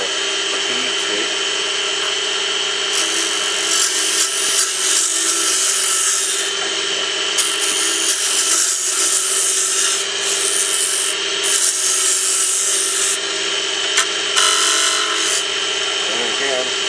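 A wood gouge cuts a spinning wooden napkin ring on a lathe, a loud continuous scraping hiss over the steady motor hum, swelling and easing as the tool takes each cut.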